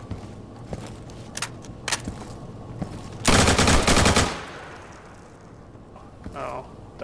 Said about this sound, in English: Oh, that gun on automatic?